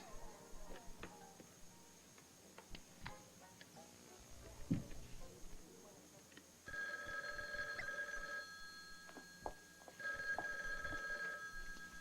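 A telephone rings indoors in two sustained bursts of bright, repeated bell trills, following a stretch of quiet shuffling and faint room noise.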